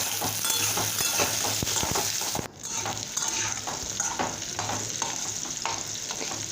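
Potato pieces for aloo posto fry in a pan with a steady, close hiss of oil and occasional stirring scrapes, dipping briefly partway through before the sizzle resumes.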